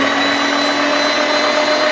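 A loud, steady mechanical whir of a grinder breaking down pepperoni for a New England Greek-style spicy pizza, running continuously and close up with no pauses.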